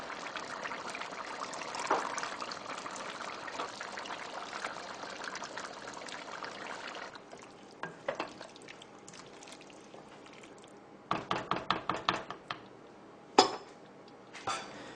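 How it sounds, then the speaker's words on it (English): Wine poured into a pot of beef stew that has been cooking down, a steady liquid trickle for about seven seconds, followed by scattered clinks of a utensil against the pot and pan. "So I'm going to go ahead and add some wine."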